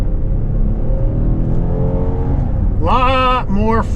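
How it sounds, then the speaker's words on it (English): A 2025 Kia Telluride SX Prestige with its V6 and 8-speed automatic in sport mode gives a steady, loud engine and road drone that climbs in pitch as the SUV accelerates. A voice talks briefly near the end. "Lot more throttle response in sport mode."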